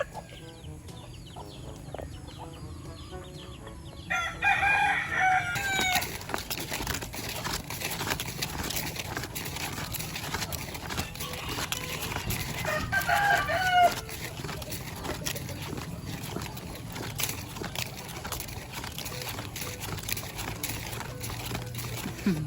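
A neighbour's rooster crows and clucks now and then in the background, fairly faint and distant over low outdoor ambience.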